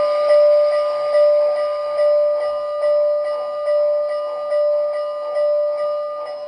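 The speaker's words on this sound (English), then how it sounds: "The bell's really nice sounding too" A steady electronic locomotive bell rings from an MTH Proto-Sound 2 model steam engine, the C&O 2716, in even, repeated strokes, loud and close with no talking.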